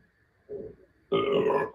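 A man lets out a short, low grunt-like rumble, then a loud, sustained throaty burp close to the mic, with no talking.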